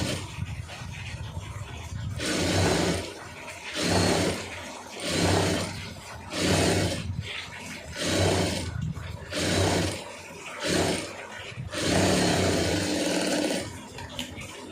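A sewing machine stitches piping onto a garment neck piece in several loud bursts of running, each a couple of seconds long, separated by short pauses.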